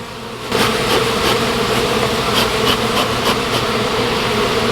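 Honey bees swarm in a big ball around a hive, giving a loud, close, continuous buzzing drone that swells just after the start, with individual bees zipping past now and then.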